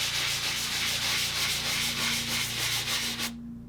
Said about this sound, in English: So just lightly sand around the edges.